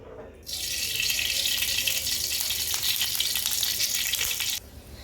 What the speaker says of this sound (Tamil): ஸ்டவ்வில் கடாயில் 2 கரண்டி எண்ணெய் ஊற்றணும்